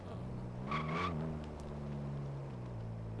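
A front-wheel-drive Honda Civic in the Forza Horizon 3 racing game, its engine bouncing in first gear: a steady, droning, buzzy engine note that wavers briefly and then holds, with no talking.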